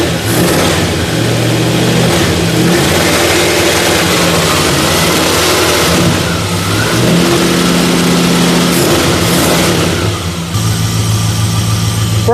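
A 1966 Ford Galaxie V8 with an electric choke revs and accelerates loudly up close, the engine note rising and falling in repeated surges before settling back toward a steady idle.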